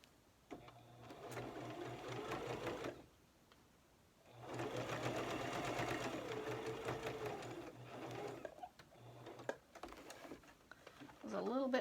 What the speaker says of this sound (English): Now stitch it at 1/4 inch.